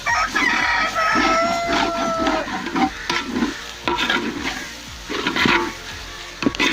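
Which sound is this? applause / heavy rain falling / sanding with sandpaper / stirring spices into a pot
stirring spices into a pot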